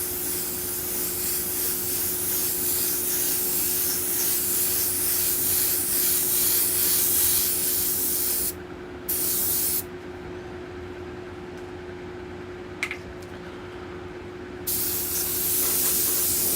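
An airbrush blows air to dry paint on skulls, a loud steady close hiss that cuts out briefly twice and then resumes, with a faint constant hum underneath.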